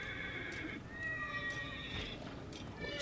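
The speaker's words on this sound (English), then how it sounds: "Horse is freaking out." Horse neighing and whinnying in a video game, a few shrill cries rising and falling over a steady background with faint hoofbeats, a voice briefly talking over it.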